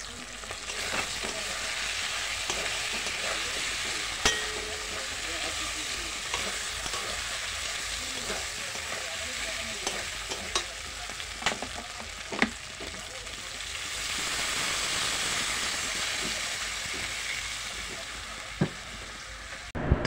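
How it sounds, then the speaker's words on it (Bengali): Curry frying steadily in a pan with broad sizzling throughout, stirred now and then with scattered scraping clicks from the spoon, swelling louder midway; no talking. "তো আরেকটু ভালো করে নেড়ে চেড়ে তারপরে জল টল দিয়ে দেবো"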